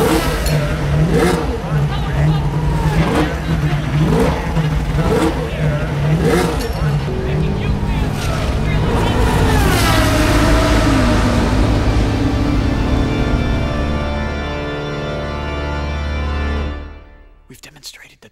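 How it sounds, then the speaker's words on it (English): A race car engine played through a subwoofer roars and revs loudly with a deep, heavy low end, climbing through repeated accelerations before cutting off abruptly near the end. "Subwoofer can handle low frequencies, like the sound of a race car engine."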